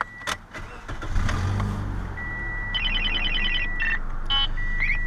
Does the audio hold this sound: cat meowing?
no